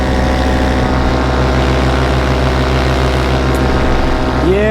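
Steady, loud engine and propeller drone of an ultralight aircraft cruising slowly through wet conditions, a continuous even hum with a brief rising whine near the end.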